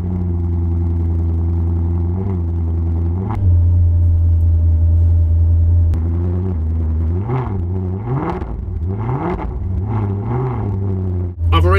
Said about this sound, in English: We're ready to test the new exhaust, so here goes. Ignition, sport mode on.